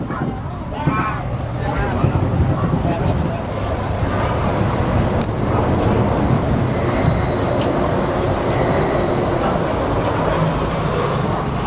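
Steady rumble and rattle of the Disneyland Railroad train rolling along tracks, continuous throughout, with faint voices murmuring in the background.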